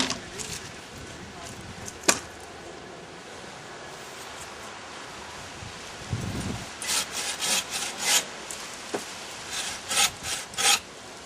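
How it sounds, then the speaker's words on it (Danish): Firewood is cut with a hand saw: after a quiet stretch with one sharp knock, a run of loud, rhythmic rasping saw strokes starts up close and continues steadily to the end. "hvor jeg står og saver det her"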